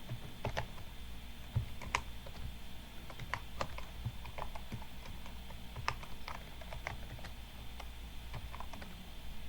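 Steady clicking of keys on a computer keyboard while commands are entered into a FreeBSD shell, with irregular keystrokes at close range over a faint hum and no talking.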